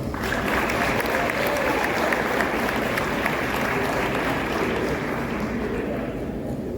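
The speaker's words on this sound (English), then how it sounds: "please give our Welcome Conference champions a round of applause" A high school athletic banquet crowd applauds its conference champion team, a broad continuous wash of clapping that holds evenly throughout.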